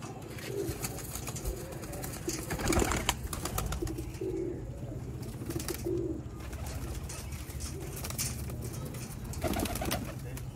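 Pigeons coo softly several times over a steady background hum, with no voices.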